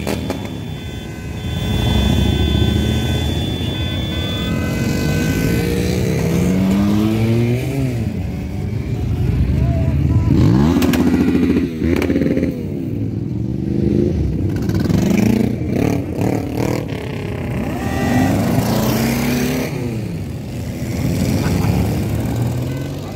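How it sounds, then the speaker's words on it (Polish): Heavy and vintage motorcycles roll past in a parade at a rally in Krotoszyn, Poland, a dense continuous rumble of engines revving and accelerating up close, with overlapping exhaust notes rising and falling as machines pass. "sobotni poranek odbyła się parada motocyklowa"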